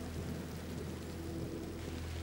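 Steady rain pours in the Pantanal marshes in a dense wash of noise, with a low rumble underneath, continuous and fairly quiet with no voices.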